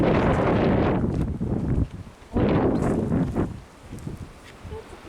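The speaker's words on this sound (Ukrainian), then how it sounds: "Аж вітер такий, це капець." Strong gusts buffet the microphone in loud rushing bursts, dropping briefly between blasts before roaring back.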